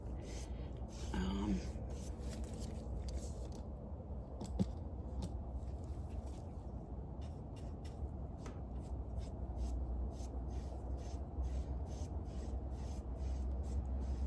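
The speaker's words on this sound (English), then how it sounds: "the chipping brush kind of acts a little bit like the deck brush, but it's just a little bit more rigid" A rigid chipping brush scrapes and rubs over faux wood paint on the side of a dresser, giving a steady, close, dry scratching texture that continues without pause.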